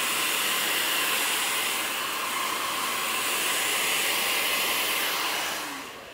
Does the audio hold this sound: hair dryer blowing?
yes